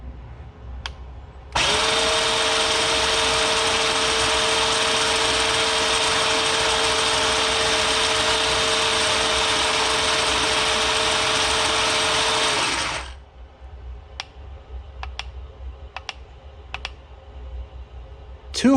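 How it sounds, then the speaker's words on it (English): SG 1203 RC tank with an upgraded, timing-advanced motor spinning its tracks: a loud, steady high-pitched mechanical whir that runs about eleven seconds, then stops, leaving a few faint clicks and light handling. "Now let's see the RPM of the track with the time motor."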